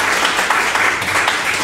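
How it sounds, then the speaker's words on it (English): Dense, steady applause from an academic lecture audience welcoming a speaker, continuous clapping at close range with no pauses. "so a big applause."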